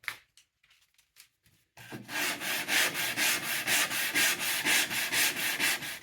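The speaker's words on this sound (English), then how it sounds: "rather than plane it, I decided I'm going to sand it, which will be a better mix of removing the excess glue and trimming that veneer to the edge." Rhythmic back-and-forth sanding strokes rub excess glue and veneer off the edge of a damaged wooden drawer, close and steady after a short quiet start, with no talking.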